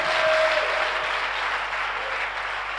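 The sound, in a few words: congregation applause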